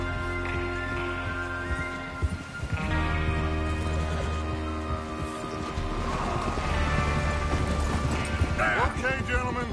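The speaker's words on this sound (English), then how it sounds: "Get your horses ready." Rapid hoofbeats of galloping horses in Red Dead Redemption 2 pound under music and game sound effects, with voices talking over them.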